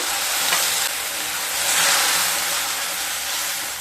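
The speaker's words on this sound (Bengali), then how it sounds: "মশলাগুলোকে খুব ভালো মতো কষিয়ে নিয়ে তারপর ফিরে আসছি" Spices and ginger paste sizzling steadily in a pan as they are fried down for a kohlrabi and masoor dal, a continuous close hiss with no voices.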